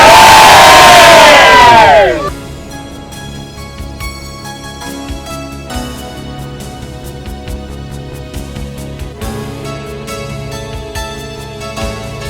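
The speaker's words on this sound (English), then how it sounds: "Okay guys, big cheer for everything good." A crowd at a dragon boat event lets out a loud, brief cheer that drops off after about two seconds, leaving a busy background of murmur and scattered noise.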